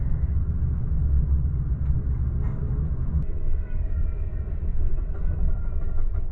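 Steady low rumble of an Amtrak Coast Starlight passenger train rolling along, heard from inside a sold-out car, continuous and even with faint rattles, no talking.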